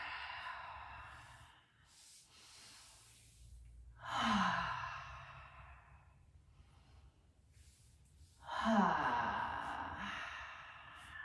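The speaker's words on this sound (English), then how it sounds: "Take a big, full, deep breath." Deep breathing during a gentle beginner yoga flow: two big, close breaths, each a full inhale followed by a long sighing exhale, spaced several seconds apart with quiet stretches between them.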